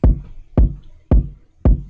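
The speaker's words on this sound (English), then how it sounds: "It sounds like this big thump sound." Four evenly spaced kick drum hits shaped by a parametric EQ preset in FL Studio, each a deep, big thump with a short decaying tail, close and alone.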